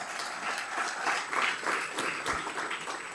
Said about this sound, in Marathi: जरा जोरदार टाळ्या या सेल्फीचे.